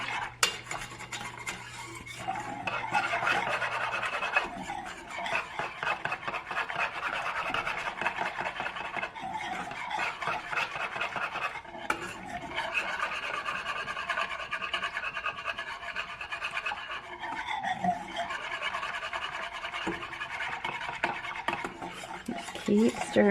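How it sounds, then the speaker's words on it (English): Chocolate gravy is stirred in a pan, making a continuous scraping and rubbing of the utensil against the pan bottom. It carries on steadily for over twenty seconds with brief pauses, close and fairly loud, with no talking. "Just keep stirring. It'll start to thicken up."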